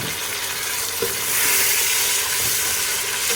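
Chicken pieces and two medium tomatoes fry in a pan for a degi-style chicken palak, giving a steady, close broadband sizzle with a few soft stirring knocks and no voices.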